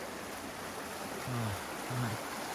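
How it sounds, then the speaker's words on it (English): A creek in Alabama's Sipsey Wilderness flows with a soft, steady rushing hiss, with two brief low tones surfacing near the end. "it's right on this beautiful creek"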